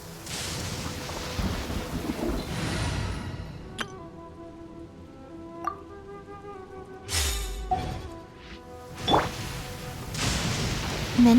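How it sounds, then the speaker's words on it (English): Thunder rumbles and cracks in a video game, with loud sharp strikes breaking over a continuous hiss of rain and fading rumbles between them, no speech. "Many people dread the sound of thunder."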